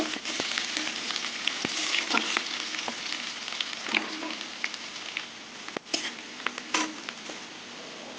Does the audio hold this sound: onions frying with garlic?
yes